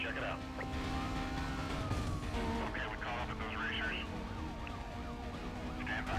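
A police car siren wails within a Need for Speed Most Wanted street race, its sweeping tone rising and falling over a constant engine roar and in-game traffic noise.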